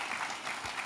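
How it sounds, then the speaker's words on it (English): A celebration of Secretary Riley and the Riley Institute's 20th anniversary brings a brief stretch of audience applause. The dense clapping sounds faint and distant, with no talking over it. "Applause."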